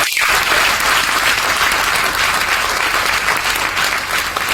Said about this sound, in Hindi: एक बार तालियां बजा दीजिए आरसीएम वर्ल्ड के लिए।